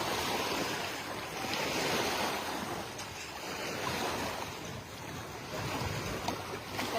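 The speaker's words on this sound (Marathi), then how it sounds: "तुम्हाला पण हे वेव्स आवडतात काय. ह्या पाण्याबरोबर खेळायला मला खूप आवडतं" Lake waves lap steadily at the shore of Pawna Lake near Pune. Outdoor wind noise blends in as a continuous wash of water, and no voices are heard.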